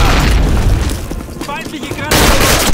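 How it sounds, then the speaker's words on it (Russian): Booming bomb and grenade explosions and bursts of gunfire from the video game Call of Duty, loud and dense, with a voice partly over the battle noise. "Бомбики и гранаты!"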